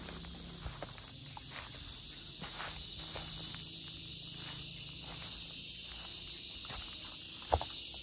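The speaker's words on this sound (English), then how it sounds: "Grasshoppers." Grasshoppers in an open field on a farm in Lipa City, Batangas, Philippines, keeping up a steady high-pitched chirring drone, with faint rustles and footsteps underneath.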